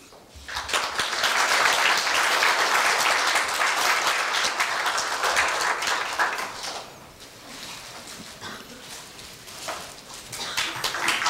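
An audience at a university staff retirement ceremony breaks into applause that swells quickly, holds strong for several seconds, then thins to lighter scattered clapping before picking up again at the end.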